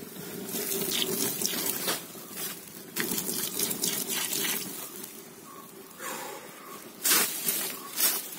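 Water poured from a bottle onto a burning mix of petrol and diesel, heard as irregular splashing, gushing bursts with hissing edges, nearby and fairly loud, with a couple of stronger surges toward the end.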